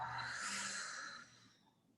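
A long, airy exhale from a person doing a seated chair yoga breathing exercise, one steady breath fading out over about two seconds, close and fairly quiet.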